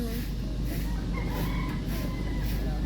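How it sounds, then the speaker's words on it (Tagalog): A tethered rooster crows and clucks close by in an outdoor roadside spot in Zambales, with repeated bursts over a steady low background rumble. "Hala, may manok."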